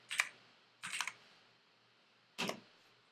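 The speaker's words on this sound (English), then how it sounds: "now we'll want to type in the URL/sitemap.xml" Typing a web address on a computer keyboard, three short quiet clusters of key clicks separated by pauses, close and otherwise silent.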